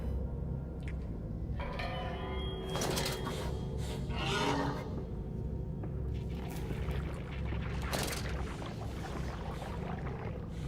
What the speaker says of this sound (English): hear water in this direction